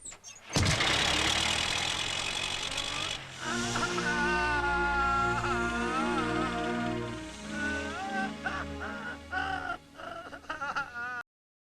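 A motor vehicle engine cranks and catches, then revs and pulls away, its hum rising and shifting in pitch before fading, with brief voices near the end.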